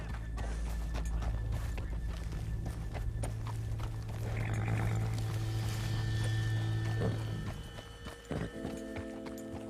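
Horse in the Red Dead Redemption 2 video game galloping with rhythmic hoofbeats and letting out a whinny, heard close and fairly quiet over a low ambient bed.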